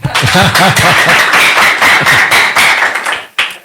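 Rhythmic hand clapping, steady and fairly loud, runs through most of the moment alongside voices, tapering off near the end with one last sharp clap.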